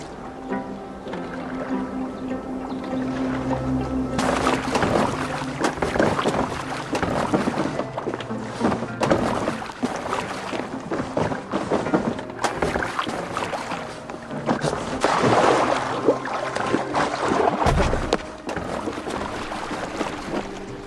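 Boat steered across open water in the video game Assassin's Creed Valhalla, with continuous sloshing, splashing and rushing wind, fairly loud and steady, no speech.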